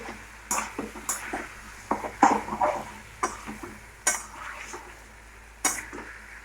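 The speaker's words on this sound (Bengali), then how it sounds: "মশলাটা একটু কষবে।" Spice paste (masala) frying in a pan, with soft sizzling under repeated scrapes and clinks of a spatula against the metal as it is stirred, in short irregular bursts.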